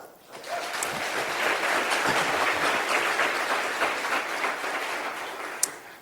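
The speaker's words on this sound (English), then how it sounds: "it's great to hear the applause" Steady applause from a forum audience fills the room, a dense, even wash of clapping that swells and holds at moderate loudness for several seconds, heard alone without talk.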